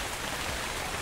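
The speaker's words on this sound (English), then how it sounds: "And now it's raining." Steady, dense rain pours in the video game Ark Survival Evolved, a continuous even hiss of falling drops with no pauses and no voices.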